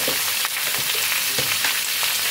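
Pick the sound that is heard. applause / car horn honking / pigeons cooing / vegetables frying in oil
vegetables frying in oil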